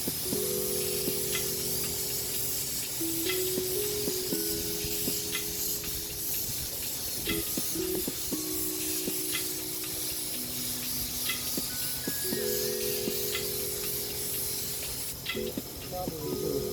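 A spray can hisses in long, continuous bursts as paint is sprayed onto a helmet for a Red Bull-style design, with background music playing throughout.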